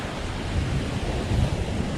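Ocean surf breaks along an island shoreline in a continuous, moderately loud rushing wash with some wind, steady throughout and with no voices.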